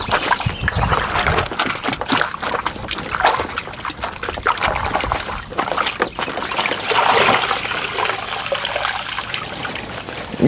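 Water trickles and splashes steadily with irregular sloshing bursts while a hunting pack is washed, fairly close, with no talking.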